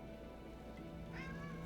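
A cat meows in the video game Nine Sols, a short, fairly faint tonal call with a rising and falling pitch over a low background hum.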